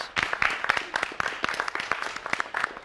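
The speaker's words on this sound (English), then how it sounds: "Let's give Mr. Jelani Perkins a big round of applause." Audience applause at a smoke-free video contest awards event, a dense, steady burst of many hands clapping close by for the whole stretch, with no talk over it.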